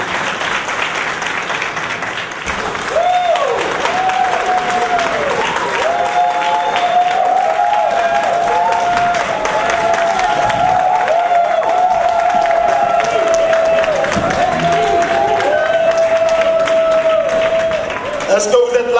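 Sustained applause from a crowd at a fundraising event for the CRI Panafricain movement fills the room, steady and loud, with a voice and some cheering mixed in.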